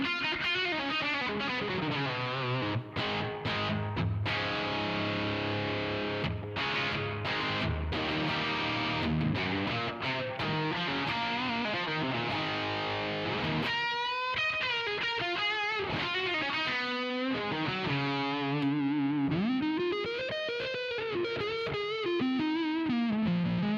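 Electric guitar played through the dirty channel of a Mojotone Studio One amp, giving a loud, continuous distorted tone with sustained chords and then single-note lines, with no talking.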